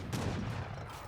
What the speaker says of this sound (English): They're under a fort, taking heavy fire from a fort. There's a heavy cannon here as well, wailing on them.